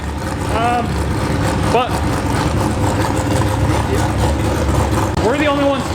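Loud drag car engine running in the pits on a cold day, a steady heavy rumble filling the whole stretch beneath someone speaking, with a few brief rising whines cutting through.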